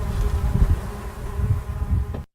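Bees buzz in a cherry orchard, a steady close droning hum of many insects that stays fairly loud throughout, then cuts off abruptly.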